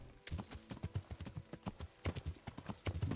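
Horse hooves clip-clop steadily in Kingdom Come Deliverance, close and fairly loud, a quick uneven rhythm of many hoof strikes over faint background noise.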